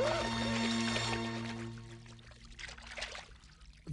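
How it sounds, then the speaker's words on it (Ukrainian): Cartoon sound effect of a waterfall of tears, a loud gushing pour that starts strong and fades into trickling splashes. "Водоспад сліз"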